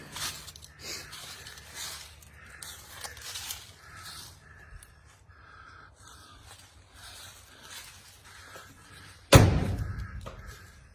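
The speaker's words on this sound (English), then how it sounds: "We'll open this back door too, just so folks can get a look and hear that door shut" A classic car's back door is shut once with a loud, close slam near the end, after a stretch of quiet outdoor background with crows cawing.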